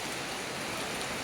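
Steady rain falls during a fishing outing in Kerala, a dense, even hiss that fills the whole moment with no voices.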